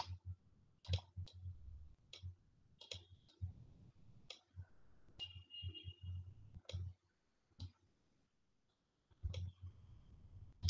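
Mouse clicks on a computer while working in circuit simulation software, a dozen or so sharp, close clicks arriving in irregular bursts with short pauses, over faint low room hum and no talking.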